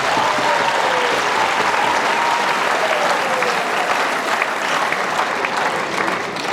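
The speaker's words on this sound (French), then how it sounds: "j'aimerais qu'on applaudisse pour toutes ces" A graduation ceremony audience gives a long, steady round of applause for the graduates' families, a dense wash of many hands clapping continuously and loudly throughout.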